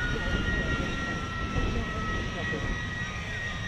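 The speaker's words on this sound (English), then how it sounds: "Nimrod, the mighty hunter" Nimrod four-engine maritime patrol jet flying past at an air show, a steady broad jet roar with a faint high whine, held at constant loudness with a voice talking over it.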